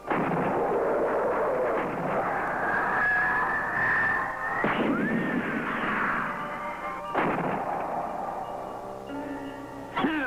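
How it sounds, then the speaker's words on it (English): Cartoon gunfire aimed at a rocket in a 1960s animated space adventure, heard as a loud, continuous barrage of booming artillery-style shots with tonal whistles and sweeping effects, alone without speech. "Alert, everybody. Start firing."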